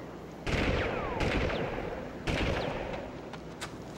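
Gunfire in the Army Men 3D video game: three loud, sharp bursts of shots, each trailing off into a noisy decay, with a smaller crack near the end.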